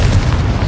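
Confringo explosion spell in Hogwarts Legacy on PS5: a short, loud, heavy boom with a deep rumbling body, dense and close, lasting under a second.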